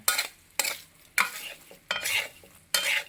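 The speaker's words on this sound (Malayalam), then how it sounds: "നന്നായിട്ട് ഇങ്ങനെ ഇളക്കി മീൻ കഷ്ണത്തേലോട്ട് അരപ്പ് പിടിപ്പിക്കുക" A spoon vigorously stirs fried fish pieces into a sizzling masala for Kerala-style fish pickle over a low flame. Five loud, close scraping strokes are spaced roughly half a second apart, with a soft sizzle between them.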